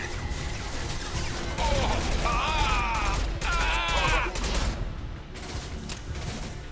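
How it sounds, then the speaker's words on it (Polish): Concussive shot fired in the video game Mass Effect 2, a loud blast and crash of a crate breaking amid layered combat effects and mechanical clatter, lasting several seconds with dense, continuous game noise. "Silny strzał wstrząsowy. Wow! Już rozwaliło skrzynkę."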